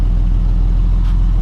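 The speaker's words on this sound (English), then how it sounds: "go ahead and rev it up a little bit" A 1968 Triumph TR250 engine runs at a steady, loud, close-up level with a deep, even rumble and no clear rise in pitch.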